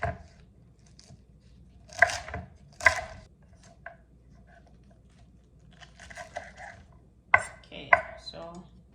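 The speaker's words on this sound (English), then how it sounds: "Start cutting this, the red part, the stalk here." A knife cuts through red chard stalks on a board in a quiet kitchen, with a few sharp, separate chops and softer slicing scrapes scattered between pauses, heard close and alone.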